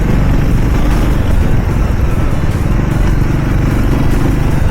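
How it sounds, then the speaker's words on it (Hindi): The engine of a Triumph Speed 400 motorcycle grunts steadily while riding through city traffic, a loud, continuous low rumble mixed with wind buffeting, close and constant throughout. "साउंड ऑफ दिस बाइक, वो भी एक ग्रंट आ रहा है"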